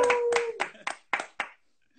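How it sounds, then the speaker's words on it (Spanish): A small group claps for a guest DJ during a live-streamed makina interview: about six separate, close claps, steady and then thinning out, after a short stretch of talk. "Un aplauso para Nabo."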